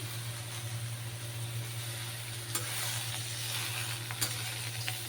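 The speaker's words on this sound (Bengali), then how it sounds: "আমার বাকি ভাজা সবজিগুলো দিয়ে দিলাম এটার মধ্যে" Fried vegetables are tossed back into a pan of frying vegetables for a Bengali mixed dish, giving a steady, even sizzle with occasional stirring scrapes.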